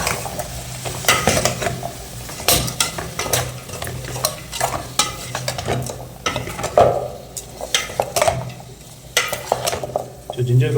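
Bitter gourd gravy being stirred in a pan with a spoon, steady scraping and clinking strokes over a soft simmer, close and continuous with no one talking.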